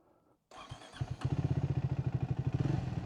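A Triumph Speed 400 motorcycle starts after a brief quiet moment, then settles into a loud, close, steady pulsing idle with a regular rhythmic thump.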